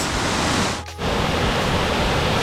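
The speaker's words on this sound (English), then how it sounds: "we've arrived at our first named waterfall. This is called the Stepped Falls" Stepped Falls, a waterfall among ferns in the Scottish Highlands, gives a loud, steady rushing roar close by that dips briefly for a moment before resuming at full strength.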